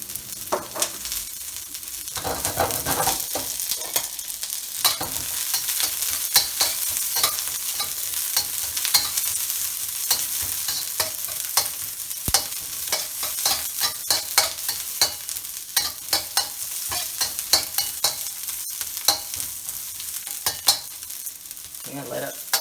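Onions frying in a pan at the start of a tofu, zucchini and mushroom stir fry, a steady dense sizzle with frequent scraping and stirring clicks throughout, close and fairly loud with no talking.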